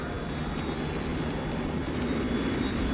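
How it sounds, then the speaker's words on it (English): Jet engines start up and run, filling the clip with a steady, loud, broadband roar and a faint high whine, with no talk. "In a few moments, I'm going to open up my jet engines."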